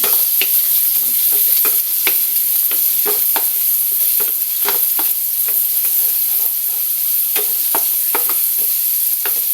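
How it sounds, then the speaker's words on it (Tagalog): Ingredients sautéing in a pan for stuffed milkfish, a constant bright hiss of frying broken by frequent clicking, scraping strokes of a stirring utensil, close and loud. "Habang ginigisa natin yung ilang ingredients na yan"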